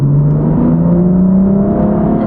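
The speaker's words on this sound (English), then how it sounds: "it does sound good actually with the BMW M Performance exhaust" A BMW M235i engine with an M Performance exhaust revs up under acceleration, its deep exhaust note rising steadily in pitch as it pulls through the gear, loud and continuous throughout.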